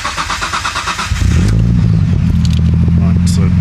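A Nissan Skyline R33 GTS-t cranks with a rapid rhythmic starter whir, catches about a second in, and settles into a loud, steady idle with a low rumble.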